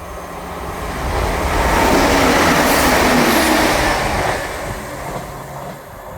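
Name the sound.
Scotrail empty coaching stock train passing through Edinburgh Gateway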